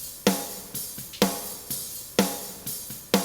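A snare drum is played with its channel processing bypassed. Evenly spaced hits, about seven of them, each ring with a bright crack and a short decay, heard alone.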